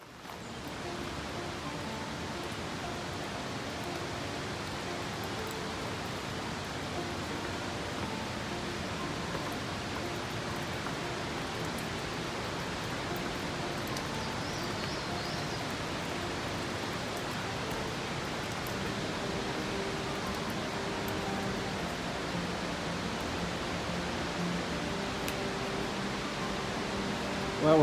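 Greeter Falls pouring after heavy spring rain, heard as a steady, broad distant roar of rushing water that holds at an even level for the whole stretch, with no talking.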